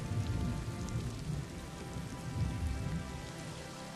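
Rain falls steadily on a mountain forest in Shenandoah National Park, a dense, even hiss of drops on leaves and ground with a few louder patters, with no voices.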